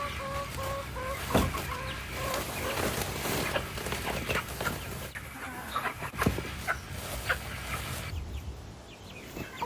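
Hens cluck and chatter close by in bursts, with occasional sharper squawks and some rustling underneath.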